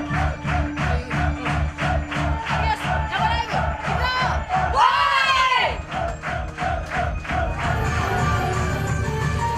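Enthusiastic fans cheering at a concert by a Japanese all-female heavy metal band: a loud crowd chanting and shouting in a steady pulsing rhythm, with one sustained surge of cheering midway.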